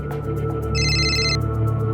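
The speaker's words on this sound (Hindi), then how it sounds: "मिश्रा जी का फोन।" A telephone rings once, a bright electronic trill lasting under a second over a steady low background hum, with no one speaking.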